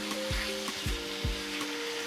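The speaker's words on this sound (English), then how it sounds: "You want actual pan to flesh contact when you are cooking any meat so that it doesn't boil itself." Chicken pieces frying in a hot pan give a steady close sizzle and crackle, with a few soft thumps as the meat is stirred and spread, and no talking.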